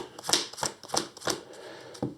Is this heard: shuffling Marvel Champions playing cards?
yes